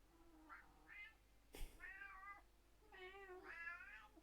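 Cat meowing in the video game Pokemon Legends Arceus, a few short separate meows followed by longer drawn-out ones, near and clear, with a brief sharp click between them.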